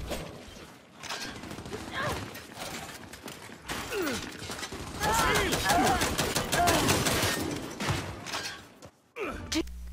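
Rapid bursts of Lancer assault rifle fire from the shooter game Gears 5, loud and dense with overlapping battle effects, brief pauses between volleys and a final burst near the end.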